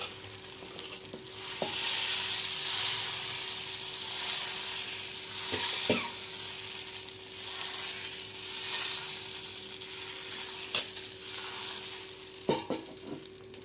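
Appam batter sizzling steadily in a hot pan at close range, with a continuous hiss and faint scraping and tapping clicks scattered through, no voices.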